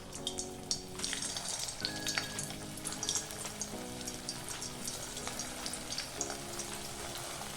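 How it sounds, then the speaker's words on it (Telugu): Cabbage manchurian balls deep-fry in hot oil over a low to medium flame, bubbling and sizzling steadily at a fairly quiet level. Occasional light clinks and crackles are scattered through it. "ఇప్పుడు మనము మంచూరియన్ బాల్స్ని ఫ్రై చేసుకుందాము"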